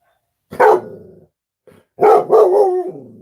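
Dogs barking in short, loud bursts: one sharp bark, a faint yip, then a cluster of several barks close by, with no talking.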